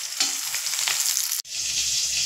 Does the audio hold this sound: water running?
no